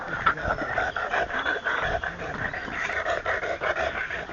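Tired dog panting steadily during a long hike in the Mecsek hills of Hungary, rapid close breaths in an unbroken rhythm with faint whimpering tones mixed in.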